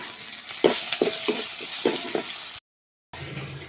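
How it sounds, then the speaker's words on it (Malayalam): Crushed shallots and curry leaves frying in hot oil for a tamarind curry: steady crackling sizzle with several bursts of sputtering as the pan is stirred, close and moderately loud, briefly cut to silence before the frying resumes. "ഇനി ഞാൻ ചതച്ച് വെച്ചിരിക്കുന്ന ഈ ഉള്ളി ഇതിലേക്കിടാണ്."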